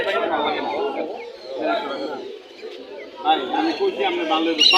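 Danish pigeons at a crowded pigeon market in Mirpur, Dhaka, cooing and chattering amid dense, continuous market chatter from many people nearby.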